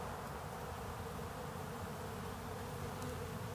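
Honey bees fly in and out of hives in late winter, a faint continuous buzzing hum of many insects close by, steady throughout with no voices.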